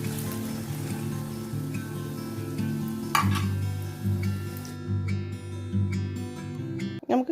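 Small vermicelli balls fry in oil and get stirred, a soft continuous sizzle under a low hum, with a louder scrape partway through and a final clatter.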